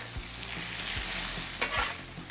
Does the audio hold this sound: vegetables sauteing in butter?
yes